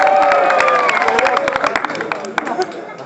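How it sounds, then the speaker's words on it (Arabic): Audience at an Algerian storytelling performance breaking into applause and cheers: dense clapping mixed with crowd voices and chatter, loud at first and tapering off over a few seconds. "هيا اعطونا تصفيق على المهرس اعطونا تصفيق"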